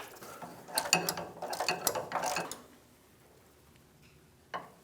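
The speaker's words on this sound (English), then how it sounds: "I had some good leverage with this ratchet, so that's done." A ratchet tightens the 19 mm through bolt on a Toyota 4Runner during power steering return hose work, with a close, rapid run of clicking pawl ticks in bursts for about two seconds, then quiet and one final click.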